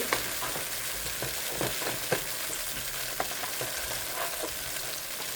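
Oil sizzles steadily in a pan during Malayalam home cooking, with a soft hiss punctuated by occasional sharper crackles and the light scrape of stirring, fairly quiet and with no talking.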